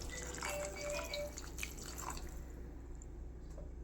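Water is poured into a nearly finished curry in a home kitchen, giving a soft, continuous trickle and drip over steady background noise, with no talking.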